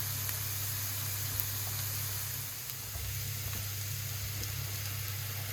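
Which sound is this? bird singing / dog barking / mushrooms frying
mushrooms frying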